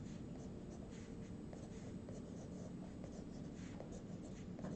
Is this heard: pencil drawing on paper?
yes